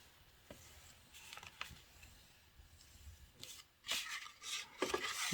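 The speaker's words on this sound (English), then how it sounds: "you want to make sure that you burnish each level well" Folds in cardstock for a center step card are burnished with dry rubbing strokes, faint and sparse at first, then louder, closer scraping passes toward the end, with no voices.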